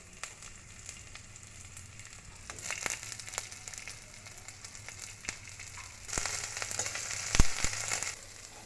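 Chopped onion frying in a spoonful of oil, a quiet steady sizzle with scattered crackles and a few sharper pops toward the end, no voices.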